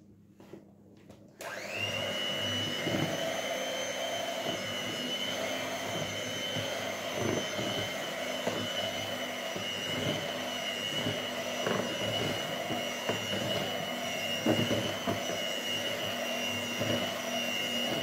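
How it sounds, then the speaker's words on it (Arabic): An electric hand mixer beats biscuit dough for Eid cookies, starting after a brief clatter and then running as a steady, close, continuous whir with no talking. "طبعا انا بضرب كده لحد ما احس ان هو تجل معايا"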